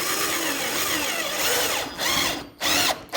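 A power drill drives a screw into a window frame, giving a close, continuous motor whine that rises and falls in pitch, with short stops and restarts toward the end.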